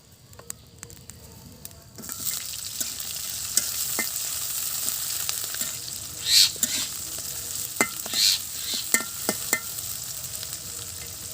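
Small fish curry frying in a pan, with a steady close sizzle that starts after about two seconds and continues, broken by repeated scraping stir strokes and occasional louder spatters.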